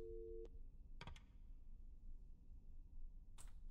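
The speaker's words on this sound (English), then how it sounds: "Phone line's dead." A dead phone line's busy tone in a horror video game plays faintly under low room hum, with a few short sharp clicks and taps around it and no talking.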